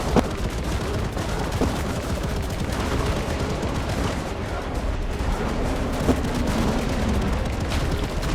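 Weapons fire in the video game ARK: Fjordur during a battle with a Shadowmane army, a loud, dense stream of repeated shots and booms over constant battle noise.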